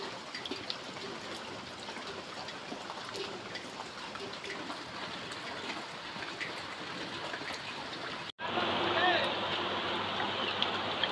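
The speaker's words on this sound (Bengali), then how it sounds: "বৃষ্টি পড়ার শব্দ তো শুনলেনই" Steady monsoon rain patters and hisses continuously in a village, cutting out for an instant before resuming a little louder and brighter.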